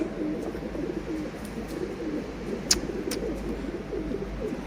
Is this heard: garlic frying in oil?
no